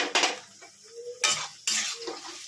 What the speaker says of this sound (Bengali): আমি ঢাকাটা নামিয়ে নিলাম কড়া থেকে।